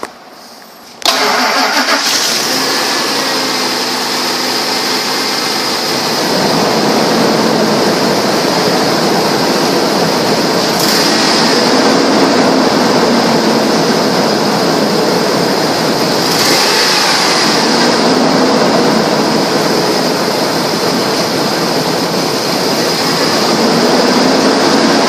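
A 2002 Ford F-150 with about 196,874 miles cranks briefly and fires up, then settles into a loud, steady idle with a constant drone and occasional slight surges, heard up close.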